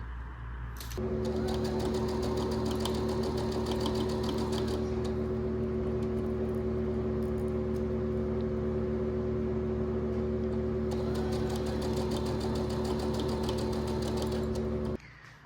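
A sewing machine runs continuously, stitching a sequin corset top, with a steady whirring hum and rapid needle clatter that starts after a second and stops abruptly near the end.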